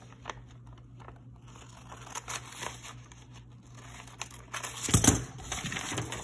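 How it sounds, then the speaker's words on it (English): Scissors cut a paper triangle, snipping and crinkling irregularly at close range, with a louder cluster of crunchy cuts near the end over a low background hum, and no voice. "So let me quickly cut out the top triangle."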